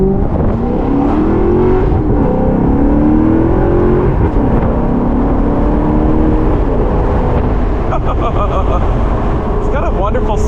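A 2009 Alfa Romeo 8C Spider Competizione engine runs in sport mode with a loud, close growl and rising and falling revs, while someone talks over it throughout.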